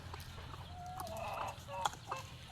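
A chicken clucks softly in a few short, scattered calls, faint and close-by against a quiet farmyard background.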